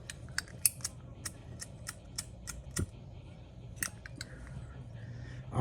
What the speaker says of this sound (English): to figure out what that high tapping sound is, high clicking